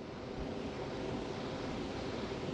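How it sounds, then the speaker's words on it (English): Water rushing out through a dam spillway at a fishing spot, a steady broadband roar and hiss with no breaks, heard alone without voices. "We're letting out a lot of water"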